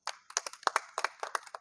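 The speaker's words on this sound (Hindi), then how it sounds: "बहुत सारी तालियां" Applause from a theatre audience at a live Pakistani stage drama: quick, uneven handclaps in a short burst, close and fairly soft, with no voices.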